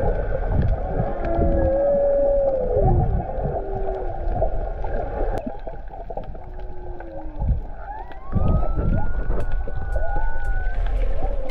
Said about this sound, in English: You could hear the whales singing in the background.